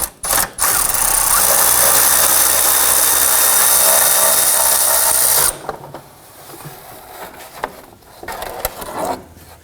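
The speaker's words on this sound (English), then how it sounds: "Now I have my electric ratchet up inside with a short extension and a deep socket." Electric ratchet fitted with a short extension and deep socket whirring steadily as it backs out a lower bolt on a 2018-2024 Toyota Camry, a loud continuous motor buzz that cuts off abruptly, followed by quieter handling noises.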